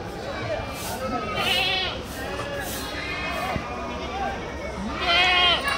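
Goats bleat repeatedly amid a busy crowd at the weekly Kadiri goat market, several calls overlapping with chatter and a lively market bustle.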